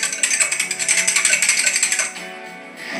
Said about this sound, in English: Just whisk this together.